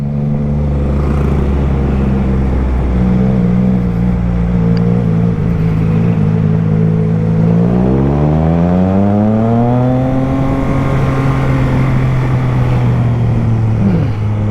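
A Triumph Trident 660 motorcycle engine hums loudly while riding through city streets, pitch climbing smoothly as it accelerates and then holding at a steady cruise, with echoing exhaust tone and no talk.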